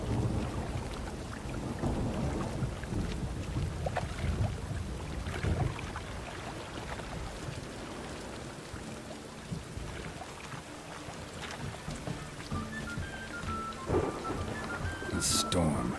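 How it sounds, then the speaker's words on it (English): A rainstorm in The Witcher 3, with steady rain hissing throughout and low thunder rumbling beneath it, plus scattered game sound effects and a brief bright chime near the end. "A storm, damn it."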